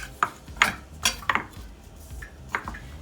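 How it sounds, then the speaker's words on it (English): Garlic is set into a small ceramic ramekin in a kitchen, giving several light clinks and taps of dish and utensil over about three seconds, close and fairly quiet. "I'm going to put it in a little ramekin,"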